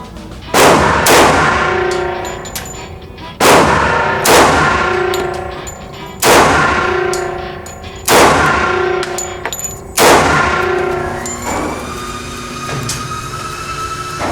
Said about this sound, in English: I'm going to load up 5 more rounds and let's